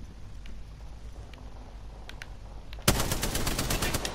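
Gunfire in Apex Legends: a few faint distant shots tick through a quiet game scene, then a sudden loud close burst of rapid automatic fire takes over for the last second or so.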